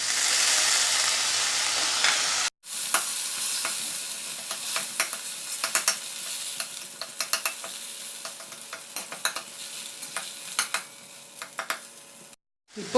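Tomatoes sizzle and fry in a pan for a Tamil poondu kuzhambu, with steady broadband sizzling broken by a short silence, then uneven stirring scrapes and clicks from a spoon against the pan. The cooking is close and carries on with no talking.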